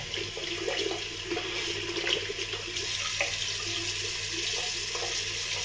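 Water runs steadily from a tap while something is rinsed at a sink before shaving lather, a continuous close splashing flow with no speech.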